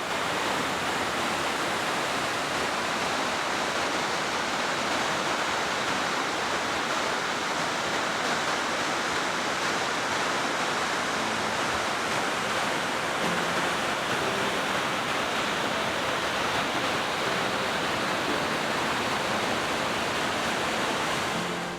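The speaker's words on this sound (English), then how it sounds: "Listening to the gentle ripples as the water flows downstream" River water rushes downstream at Gabruta Falls in Kenya, a steady, dense roar that continues without a break and without voices.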